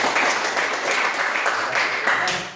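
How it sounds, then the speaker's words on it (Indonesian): A classroom group claps for the first student group after its presentation, a loud, dense burst of many hands that carries on steadily for a few seconds before beginning to ease off. "Mari berikan tepuk tangan untuk kelompok satu."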